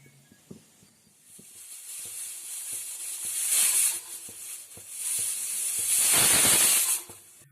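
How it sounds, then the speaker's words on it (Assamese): A pressure cooker holding lentils and rice heats on a gas flame, giving a rising steady hiss that swells twice into loud steam bursts, with faint clicks and rattles underneath. "এতিয়া ঢাকনিখন বন্ধ কৰি গেছৰ ফ্লেম অন কৰি মই কুকাৰটো বহাই দিছোঁ আৰু 2টা চিটি দি ল'ম।"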